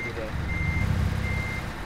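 Truck reversing beeps while the truck turns in Euro Truck Simulator 2: a steady, sustained high electronic tone over a low engine rumble, heard continuously throughout.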